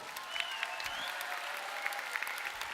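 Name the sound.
audience applauding the duo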